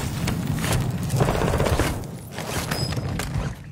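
In a video game, airstrike explosions and gunfire crackle densely together, a continuous rattling barrage with dull booms mixed in, fairly loud and unbroken for a few seconds.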